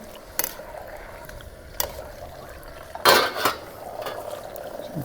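A spoon tapping and clinking against a pot or bowl while seasoning and salt are added to a sweet and sour shrimp dish: a few sharp metallic knocks over a quiet kitchen background, with faint scraping.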